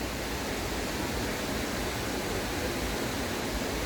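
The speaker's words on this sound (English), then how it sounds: "It's raining. Yeah, it's raining now." Steady rain falling along a trail beside a waterfall in Helen, Georgia, a dense, even hiss of water that fills the whole clip with no voices.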